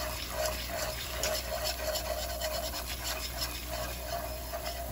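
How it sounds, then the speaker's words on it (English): A whisk beats all-purpose flour into a roux for lobster and shrimp mac and cheese, making a continuous, rapid rhythmic scraping against the pot that is close and steady throughout. "we put in that half a cup of all-purpose flour. We're gonna whisk that up."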